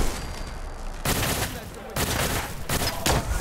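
Laser cannon fire in Fallout 4 at an amusement park, loud rapid bursts of crackling blasts in three dense waves that fill the clip, with a voice talking underneath.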